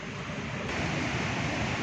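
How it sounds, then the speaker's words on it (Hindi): Rushing water of the Neelum river, also called the Kishan Ganga, picking up speed as its channel narrows, a steady broadband roar with no breaks, close and fairly loud throughout. "ये देखें जी पानी का शोर"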